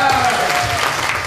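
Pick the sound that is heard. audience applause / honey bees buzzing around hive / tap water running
audience applause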